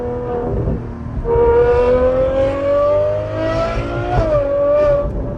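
A high-revving tuned Ferrari engine and exhaust roars steadily while driving, its pitch climbing smoothly through a long pull, with a brief dip and renewed rise near the end.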